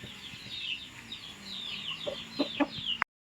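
Chickens cluck and chirp softly nearby, a few short calls scattered over a low background, ending abruptly.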